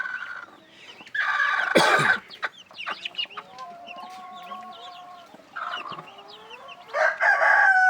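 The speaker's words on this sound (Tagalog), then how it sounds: "Mga heritage chicken yan. May halo na ginya at saka itik." Heritage chickens cluck and a rooster crows loudly up close, with guinea fowl and ducks mixed into the flock, bursts of calls recurring across a busy farmyard.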